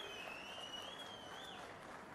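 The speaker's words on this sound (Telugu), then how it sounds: "గట్టిగా చప్పట్లు కొట్టి అభినందించండి." Audience at a political rally in Punaparivaripalem applauds steadily, a continuous wash of clapping at even loudness throughout, with a faint high whistle-like tone running above it.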